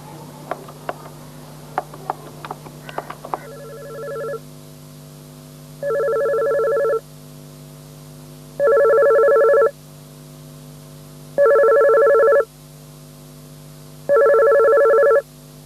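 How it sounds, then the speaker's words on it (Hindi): Telephone ringing indoors in a domestic drama, preceded by brief clicks, then five steady electronic rings of about a second each with regular pauses between them, loud and close. "हेलो अंजुम, थैंक गॉड तुम फोन पे मिल गए"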